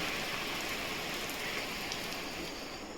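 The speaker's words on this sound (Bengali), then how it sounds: "বেশ ভালোই লাগছিল বৃষ্টিটা" Steady rain falls outside a house, a dense continuous patter heard close and evenly loud throughout, with no voices.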